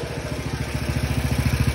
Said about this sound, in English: This is what it sounds like. It's a pretty nice mini bike. It's pretty loud.